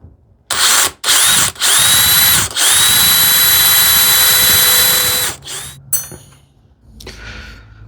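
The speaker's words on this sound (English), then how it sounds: "Now the other ends I can just drill it like this." A power drill bores a clearance hole in a wooden rebate plane body, loud and close, in several bursts: a short start, brief stops, then a long steady run near two seconds, with a few lighter spins and handling noise at the end.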